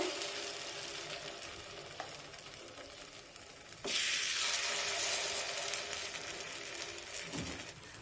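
Bajra flour batter hitting a hot appe pan sets off a steady sizzle, which jumps louder partway through as more batter goes into the cavities and then keeps crackling evenly with no voices.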